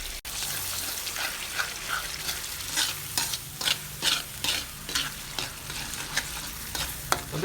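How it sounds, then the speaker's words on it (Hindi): Four eggs stirred and fried in a pan for Lahori anda tikki, a constant close sizzle punctuated by rhythmic spatula scrapes and stirring strokes, with no speech. "इसकी भुनाई हमने अच्छे तरीके से करनी है।"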